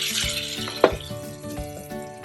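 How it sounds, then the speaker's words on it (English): Soy sauce, rice wine vinegar and lime juice being stirred in a pan on the stovetop, a soft scraping swirl with one sharp clink of utensil against the pan amid low sizzling. "Give it a stir."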